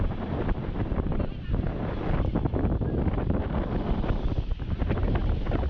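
Wind buffets the built-in microphone of a GoPro HERO 7 outdoors without a windscreen, a loud continuous rumbling roar that stays steady throughout.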